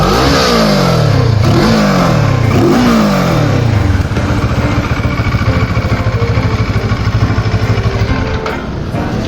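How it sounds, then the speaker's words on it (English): A CF Moto 650 MT motorcycle with its stock silencer is revved three times in quick succession, loud and close, then settles into a steady, throbbing idle. "let me show you the sound of the silencer."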